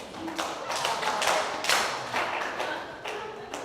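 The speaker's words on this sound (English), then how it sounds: "Kindly let's clap for her as she comes." Audience members at a sub-regional youth parliament in Mbarara clap for an arriving technical advisor, the uneven, sparse claps and thuds rising and falling at moderate distance.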